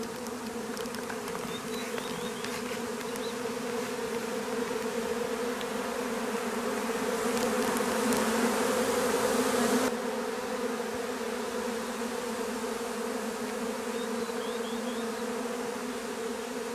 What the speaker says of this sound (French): L'essaim est parti, il est en train de se fixer là-haut.